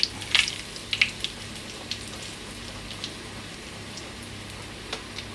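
Mustard seeds popping in hot oil for a Kerala-style dal curry tempering: sparse, sharp little crackles scattered over a faint, steady sizzle, fairly quiet and close, with no talking.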